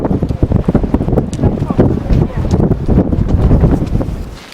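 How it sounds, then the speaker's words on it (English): Strong wind howls across a mountain pass at Torres del Paine in Patagonia, battering the microphone with a loud, continuous roar that gusts and surges without pause. "we think the wind's howling at over 100 kilometres an hour here"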